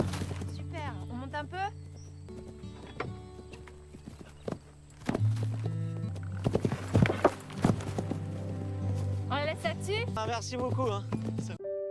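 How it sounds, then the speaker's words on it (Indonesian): Horse hooves clip-clop steadily at a riding training ground, with occasional neighing and people talking over the rhythmic hoofbeats. "Pierre mengunjungi tempat latihan kuda ayahnya untuk melihat kuda baru mereka, Jappeloup."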